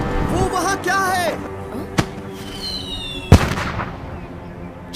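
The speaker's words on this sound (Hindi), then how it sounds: "अब पटाखों से खेलना बंद करोगे? मुझे इनसे डर लगता है।" Firecrackers go off in sharp, isolated bangs, two distinct cracks a second or so apart, amid voices talking and background noise.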